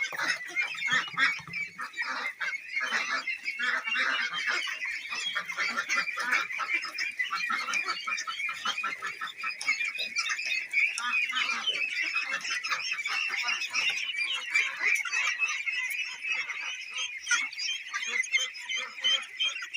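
Domestic ducks and geese honk and quack continuously nearby, a busy overlapping flock chorus of repeated nasal calls with no pauses, running loud and steady throughout.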